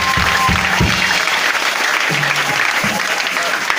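A congregation applauds during an Easter church service, steady clapping throughout with a few low tonal sounds underneath.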